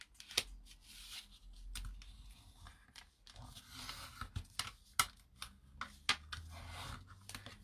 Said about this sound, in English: And then we're going to fold that back on itself